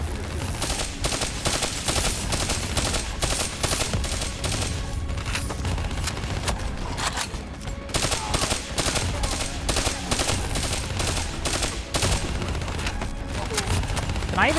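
Grenade blasts and dense gunfire in Call of Duty: Black Ops 3, a continuous loud battle din with repeated bursts and booms layered under voice chatter throughout.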